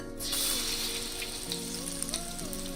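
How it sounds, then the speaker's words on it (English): Marinated, battered prawns frying in hot refined oil in a kadai, giving a steady close sizzle with bubbling crackle throughout, mixed with some tonal background sound and no speech. "we will dip the marinated prawns in the batter and fry them"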